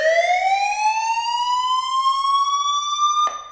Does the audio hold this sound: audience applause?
no